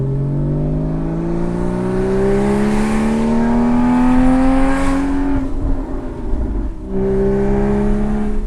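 A car exhaust fitted with high-flow 200-cell headers, running in sport mode, revs loud and close. Its throaty drone climbs steadily in pitch, then drops off briefly before picking back up again.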